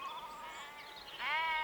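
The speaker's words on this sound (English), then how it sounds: "listening to that beautiful sound of the river, the birds, the sheep" A sheep bleats beside a river with a wavering call that rises into a louder second bleat. A soft, steady outdoor wash sits underneath.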